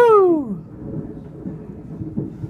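Thunder following a lightning strike during a Labour Day thunderstorm in Whitby, Ontario: a brief falling tone at the start gives way to a low, rolling rumble that lingers at moderate loudness for a couple of seconds.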